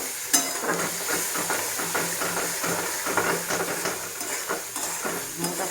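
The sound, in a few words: sautéing potatoes with cauliflower in a pan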